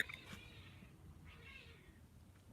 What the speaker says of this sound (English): Damn cats again in the basement. Do you hear that?